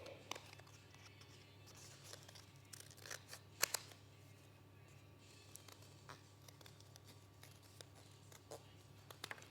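Quiet snips of scissors cutting a cardboard pom pom template, soft and close over low room hiss, with one sharper cut near the middle.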